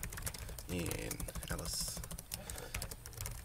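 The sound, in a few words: typing on a computer keyboard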